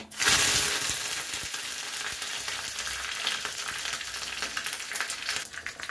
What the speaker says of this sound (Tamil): இப்போ ஃப்ரெஷ்ஷான கருவேப்பிலையும் வரமிளகாயும் சேர்த்துடலாம்.